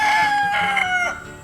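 A backyard homestead flock of chickens and roosters: a rooster crows loudly and close, with clucking hens mixed in and no talk.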